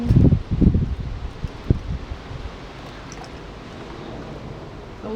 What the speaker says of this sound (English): A lovely day has decided to turn out to be very windy, which is a bit of a pain.